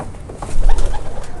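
Racing pigeons in a loft coo softly and repeatedly, a low murmuring burble close by with no talk over it.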